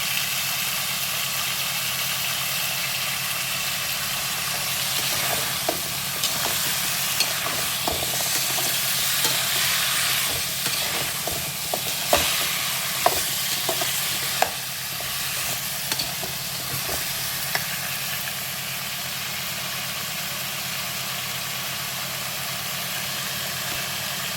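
Vegetables sautéing in oil in a pan for a prawn and tamarind curry, a constant loud frying sizzle overlaid with repeated spoon stirs and scrapes against the pan.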